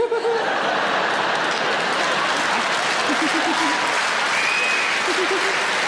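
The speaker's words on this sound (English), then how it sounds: "don't start clapping" Studio audience at a comedy show bursts into loud, steady applause lasting several seconds, mixed with chuckles and laughter, while a voice talks briefly over the clapping.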